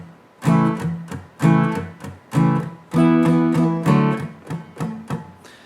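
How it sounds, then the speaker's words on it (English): Acoustic-style guitar strummed on the bottom strings with the fretting hand lightly touching them, giving percussive muted chops; loud, close downstrokes in a rhythmic pattern, several sharp bursts with short choked tails and no talking. "if you just lightly touch the strings and you strum down just on the bottom strings, you're going to get that kind of percussive muting sound."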